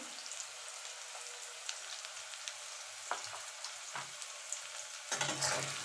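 Fried potatoes dusted with turmeric powder are stirred in a pan, producing a soft, steady sizzle with a few scraping strokes and a louder burst of frying toward the end.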